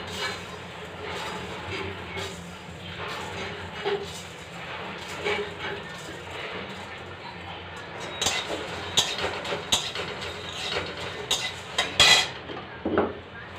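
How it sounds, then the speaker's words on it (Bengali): Whole spices such as bay leaf and coriander dry roasting in a pan over a gas flame, with steady rattling and clinking of spoon against metal that grows sharper near the end, no talking. "মশলা ড্রাই রোস্ট করে নেব"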